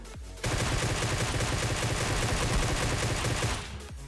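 Rapid automatic gunfire from a battle royale video game kill, a dense continuous burst of shots lasting about three seconds, loud and close, with no talking over it.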